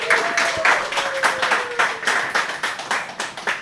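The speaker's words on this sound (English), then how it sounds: "Round of applause, everybody." Rhythmic clapping from a small audience at the opening of a live show, a steady pulse of hand claps with a little applause beneath, a faint tone sliding through the first half.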